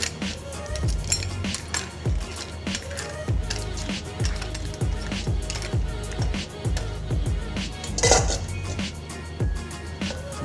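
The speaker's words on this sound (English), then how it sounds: "Mix everything up nicely." Mussels tossed with picked basil in a metal pan, producing a busy run of clinking shells and scraping against the pan, close and continuous, with faint talk in the background.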